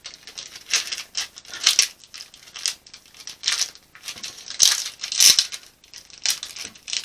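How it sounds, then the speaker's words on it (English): Perforated foundation paper being torn away from a pieced quilt block: a close, continuous run of crisp rustling and tearing, with short louder rips in quick succession. "tear the perforations away"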